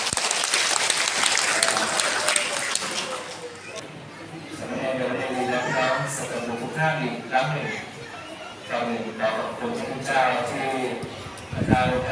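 Congregation applause at a Catholic ordination ceremony in Thailand, a broad clapping wash that fades as talk rises. Over the later half, voices and crowd chatter continue while the clapping thins.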